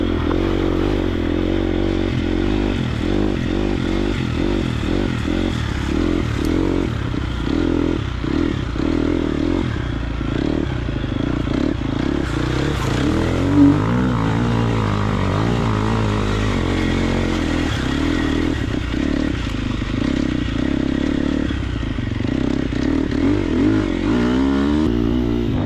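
A Triumph TF250X motocross motorcycle roars continuously under steady riding, its engine note rising and falling with throttle, loud and close throughout with some clattering from the bike, and no talking.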